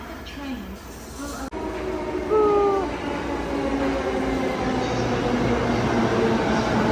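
A Hakone Tozan Railway train runs through Japan with a steady, close rolling rumble and a continuous hum, plus a few brief higher tonal squeals. Voices seem to be present under the noise.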